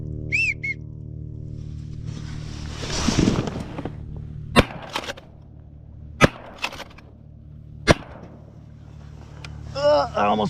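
Three sharp, loud shotgun blasts crack out a second or two apart during a duck hunt, each fading quickly, with shrill duck-call whistles at the start and end and a rustling burst between.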